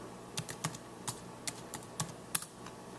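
Someone types on a keyboard while holding a camera, producing a dozen or so distinct, close key clicks at an uneven, unhurried pace over a quiet room background.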